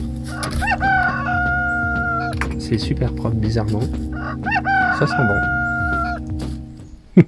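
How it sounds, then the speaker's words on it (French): A hen visiting an autumn campsite in Canada gives loud, drawn-out calls broken by clucks, close by, while a person talks over it. "on a aussi une poule qui vient nous rendre visite"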